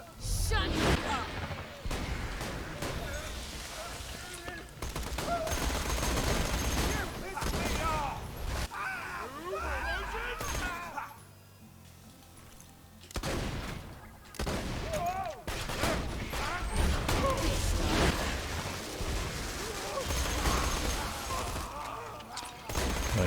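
Rapid bursts of gunfire in the video game Borderlands 2, with repeated loud shots and a brief lull midway before firing resumes, over game sounds and some talk.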